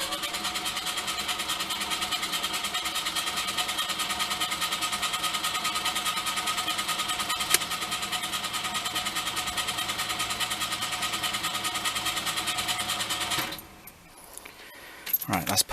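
A Lada 2102 engine is cranked over on a carburettor and ignition repair job, giving a loud, steady mechanical drone for about thirteen seconds before it cuts out abruptly, leaving quiet shuffling noises.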